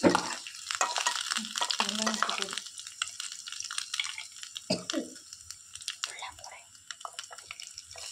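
Whole spices and a bay leaf stirred as they fry in oil in a pan, loud close sizzling with scraping stirs that settle into a softer crackle.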